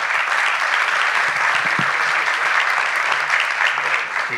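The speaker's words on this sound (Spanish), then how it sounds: "un fuerte aplauso para Juancho" Clapping from an audience at a Peruvian agribusiness conference as a guest speaker, an agricultural engineer, is welcomed: a sustained, even round of applause, fairly loud, with a faint voice or two mixed in.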